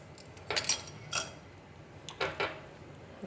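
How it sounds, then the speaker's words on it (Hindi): Cake batter with vanilla essence being mixed in a bowl: soft scraping and clinks of a utensil against the bowl in short bursts, faint and close, with pauses between strokes. "इसको भी अच्छी तरह मिक्स कर लें।"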